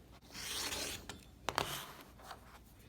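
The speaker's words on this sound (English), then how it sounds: "Let's cut a straight line across one side." Fabric being cut in a straight line for a quilt block: a short, close, quiet rasping rub with a sharper scrape near the middle, and no talking.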